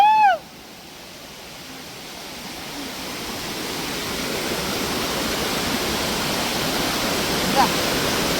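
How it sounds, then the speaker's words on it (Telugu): Mattighatta waterfall roars as a broad, continuous rushing wash that swells gradually louder, after a short burst of a voice at the very start. "ఇదొక వాటర్ ఫాల్, అల్లదొక వాటర్ ఫాల్."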